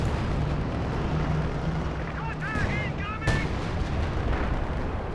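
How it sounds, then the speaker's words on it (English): A zeroing artillery barrage in Company of Heroes 2, with dense rumbling shell impacts and a sharp blast amid continuous battlefield noise. "Chenziwu dropping zeroing artillery"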